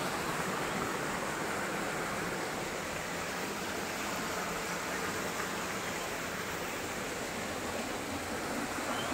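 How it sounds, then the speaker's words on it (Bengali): Water rushing steadily along a stream in Mirik, near a hillside shrine, a dense, continuous broadband roar that holds even and close for the whole stretch with no voices. "এই জলটা যে আসছে এটাই যেন হেভি লাগছে, তাই না?"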